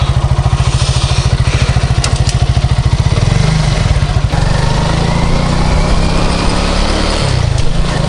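An Alpha Sport 50cc moped engine drones steadily while riding toward town, loud and close, first with a fast rhythmic putter that smooths into a continuous buzzing hum over wind noise.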